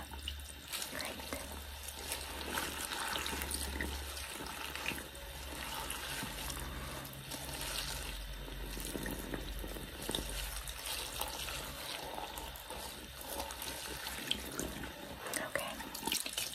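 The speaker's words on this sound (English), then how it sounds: "I'm going to turn the water off." Tap water runs steadily over hair being rinsed at a sink, a continuous close splashing wash with soft trickles, lasting throughout with a faint voice in the background.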